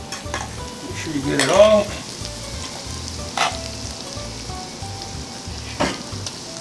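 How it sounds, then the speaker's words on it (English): Egg mixture stirred into hot bucatini pasta in a pan, a soft wet sizzle under repeated rhythmic scraping and stirring, with a brief clink and a few short words spoken over it. "I'm going to take my egg mixture and I'm going to put it right into the hot pasta."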